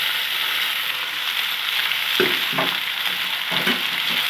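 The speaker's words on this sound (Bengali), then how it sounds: "এবারে এটাকে ভালো করে নুন আর হলুদ দিয়ে ভেজে নেব পাঁচ থেকে ছ মিনিটের মধ্যে" Potatoes, eggplant and onions fry together in a pan with salt and turmeric, making a constant close hiss and sizzle with several spatula scrapes and knocks partway through.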